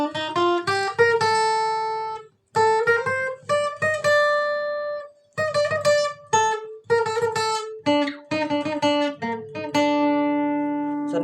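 A guitar plays an intro alone, a busy run of quick plucked notes grouped into phrases with brief gaps, ending on a longer ringing note.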